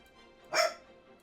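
A giant dog unleashed as a disaster in the city-building game Cities: Skylines gives a single sharp bark that rises briefly over a low, steady background hum.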